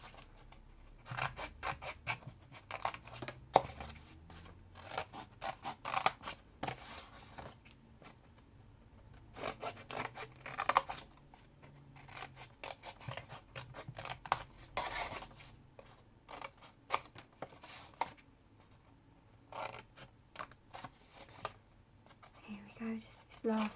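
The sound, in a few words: cutting cardstock along a score line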